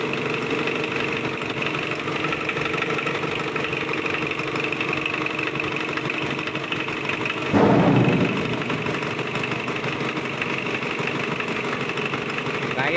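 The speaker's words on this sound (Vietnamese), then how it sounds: "Máy nổ khá là lực nha." Kubota V1505 diesel engine, 32 hp, running at about 3600 rpm, a loud steady idle-like rumble with constant mechanical knock and vibration throughout, plus a brief louder burst midway.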